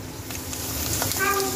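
Potato and pointed gourd slices frying in oil in a village kitchen, a close, even sizzle with light crackling throughout this short stretch.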